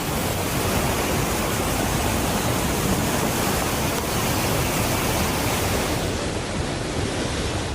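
Floodwater rushing through the streets of Medina, Saudi Arabia, after a Red Sea storm: a loud, steady broadband roar of torrential water, unbroken from start to finish with no voices.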